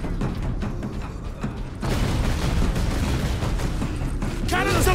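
Gunfire in the Warhammer 40k Space Marine video game, dense loud bursts of shooting and mechanical clatter with explosive impacts, growing heavier partway through, under a busy battle mix.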